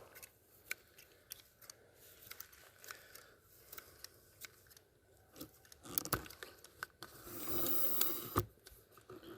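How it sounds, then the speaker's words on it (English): Garden snips cut through plants along bed edges for chop-and-drop mulch, giving a series of quiet, irregular snipping clicks with soft rustling of leaves and a denser crunchy burst of cutting toward the end. "doing chop and drop on the edges here with her snips"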